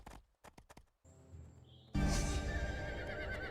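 A horse in the game Riders of Icarus gives a loud, close whinny that rises out of a few sharp clicks and a tone, followed by a sustained bright neigh over game noise.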